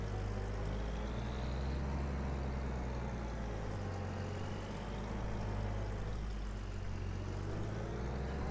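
A tractor or farm vehicle in Farming Simulator drives steadily toward the field, a continuous low engine drone with no talk over it.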